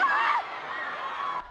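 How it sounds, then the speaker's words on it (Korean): Thousands of football fans at an airport cheer as the national team and coach arrive home from the World Cup, a brief burst of excited whoops and shouts that settles into a steady crowd roar. "벤투 감독과 선수들이 모습을 드러내자 환호성이 터집니다."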